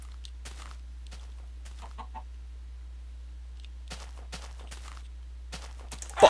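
A chicken in Minecraft clucks in short, scattered bursts alongside soft in-game footsteps over a steady low hum, with a brief sharp sound at the very end.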